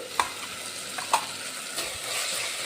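Crushed garlic and ginger go into a pan of onions already sautéing for a fish curry, giving a continuous close sizzle with a couple of sharp scraping stir knocks.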